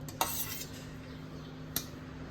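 Cabbage and onion being mixed in a bowl for bhanole, with two sharp clinks of a spoon or utensil against the dish over a quiet background and a faint steady hum.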